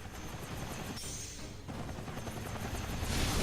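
Helicopter in the Ninja Blade video game, a loud, steady broadband rotor-and-engine roar that holds throughout with a brief dip partway, then swells louder toward the end, with no talk over it.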